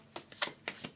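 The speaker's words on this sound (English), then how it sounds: "Give that a bit shuffle." Osho Zen tarot cards are shuffled in quick riffling bursts, four or five crisp papery flutters close to the listener in an otherwise quiet room.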